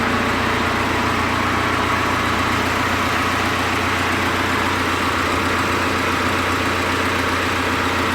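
Audi A4 2.0 TDI diesel engine idling steadily and close, a continuous low rumble with even vibration and no voices throughout.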